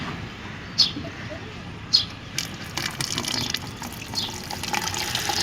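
Water pouring from a tap or hose onto potted plants in a rooftop garden, a steady running flow with a few sharp clinks near the start.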